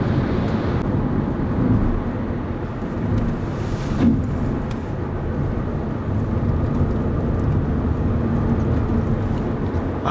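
Steady, loud wind roar from the side mirrors of a Renault Clio 1.0 TCe hatchback cruising at highway speed around 115 km/h, a continuous broadband rush with no talk.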